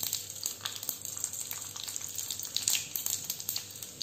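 Mustard seeds crackle and pop in hot ghee in a pan, a steady faint sizzle dotted with small irregular pops and spits, with no talking.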